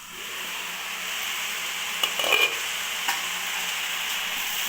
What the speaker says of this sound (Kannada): ಚೆನ್ನಾಗಿ ಮಿಕ್ಸ್ ಮಾಡ್ತಾಯಿದ್ದೀನಿ